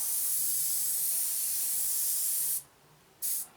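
A loud, steady aerosol spray of varnish hisses close by onto a 1/48 scale Eduard SE5a model for a few seconds, stops briefly, then gives one more short burst.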